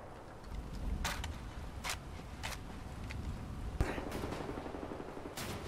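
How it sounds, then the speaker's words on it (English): Game gunfire in the shooter Wolfenstein: The New Order, scattered bursts of shots cracking out amid a busy, continuous background of combat noise, fairly close, with no voices. "Where are they firing from now?"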